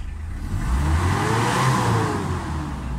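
The engine of a Mitsubishi Adventure revs up toward the red line near 4,000 RPM, a mid-pitched roar that rises and then falls back, heard up close with no talking.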